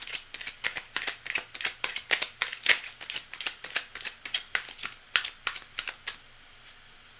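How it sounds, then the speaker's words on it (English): Tarot cards shuffled in a rapid run of about twenty crisp, papery riffles and slaps, close and fairly quiet, each burst evenly spaced before a brief pause at the end. "Gonna shuffle it up, then we're gonna read for Nature Explorer."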